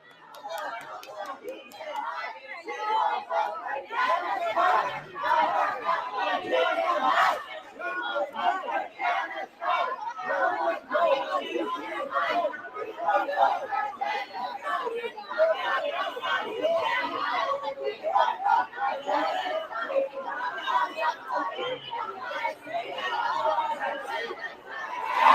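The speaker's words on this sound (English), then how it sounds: "They're all cheering." Crowd at a political rally: a large mass of voices shouting and cheering continuously, loud and busy, with overlapping chatter and calls throughout.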